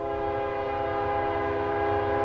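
A train horn blares steadily and loudly at a grade crossing, a sustained rich chord held for the whole stretch over low rumbling.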